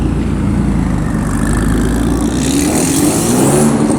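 A passing car at an underground car meet in Osaka gives off a loud, close drone of engine and drivetrain, with a rising differential whine near the end over continuous road noise.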